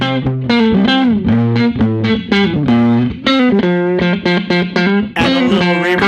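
An electric guitar plays through a Ruby Ray amp in pentode mode, completely dry with no reverb: a lively run of picked single notes and bends with a clean-to-gritty edge, loud and close, with no voices.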